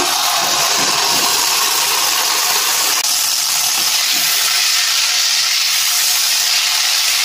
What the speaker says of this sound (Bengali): এখন কড়া বসিয়ে দিয়েছি, ঘি দিয়ে দেবো। এখন ঘির মধ্যে এগুলো ঢেলে দেবো।